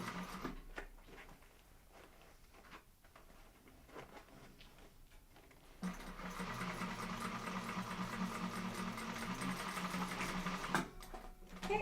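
A misbehaving sewing machine stitches a boxed corner seam in fabric, starting quietly with faint taps and then running steadily and louder for several seconds with a dense mechanical whir, ending with a brief stop and restart.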